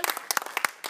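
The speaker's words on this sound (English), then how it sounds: "Let's give a big hand to our final speaker, Mr. Eyvinn Voxtall, with a round of applause." A short burst of applause for the final speaker at a school debate, a handful of people clapping close by in quick, uneven claps for about a second.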